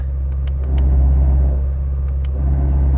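Deep, loud exhaust rumble from an idling Shelby GT350R in loud exhaust mode, steady with a slight swell in the middle, close by.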